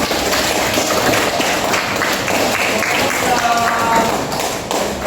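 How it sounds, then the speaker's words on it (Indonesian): A classroom of students applauds a group after its presentation, with dense, loud, sustained clapping and tapping filling the room throughout. "Tepuk tangan dulu untuk kelompok."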